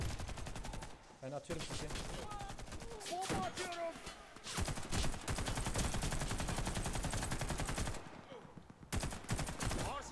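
Heavy-weapon and rifle fire in the Warface shooter on a Cold Summit mission, with repeated loud bursts and rapid automatic volleys running almost continuously, broken by brief lulls, while players talk over the shooting.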